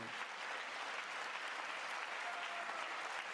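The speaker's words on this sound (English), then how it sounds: "We're clapping." Steady clapping from a crowd during a State of the Union speech, a dense wash of applause that holds at even strength throughout, heard from some distance.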